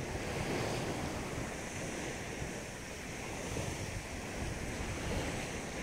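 Steady ocean surf washing in on the open sea, a continuous broad roar of waves with some wind, unbroken and fairly loud with no voices over it.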